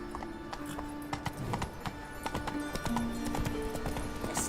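A horse's hooves in The Witcher 3 video game beat a steady, fast clip-clop at a gallop, with a brief whinny mixed in, fairly close and continuous.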